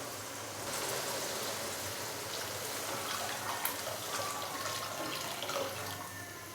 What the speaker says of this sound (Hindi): अभी मैं इसके अंदर पानी डालूंगा तकरीबन 6 से 7 गिलास।